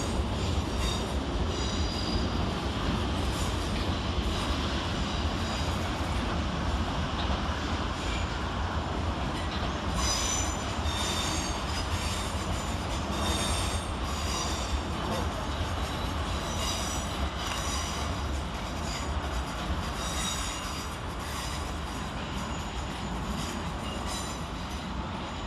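Southwestern Railway class 450 units arriving at London Waterloo station, a steady loud rumble of train wheels and motors with brief metallic squeals, continuous throughout with no talk.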